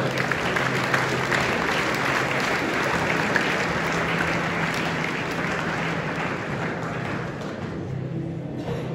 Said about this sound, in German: Gebt ihnen vorab einen ganz grossen Applaus.